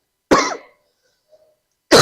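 Two harsh, close coughs, one at the start and another near the end, separated by near silence.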